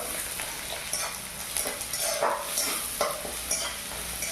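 Chopped onions fry in oil in a pan for homemade pasta, giving a continuous close sizzle broken by soft stirring scrapes, with no talking.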